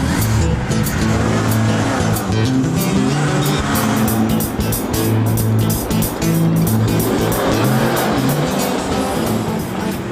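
A car running on flammable gas converted from coffee drives through London at night, its engine and road noise a continuous, loud, steady drone with no voices for the full stretch.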